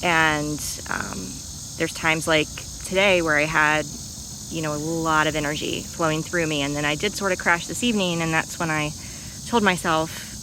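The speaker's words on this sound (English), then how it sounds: "So you can probably hear the cicadas behind me." Cicadas chirp outdoors at night, a steady high-pitched insect drone that runs unbroken beneath a woman's close, continuous talking.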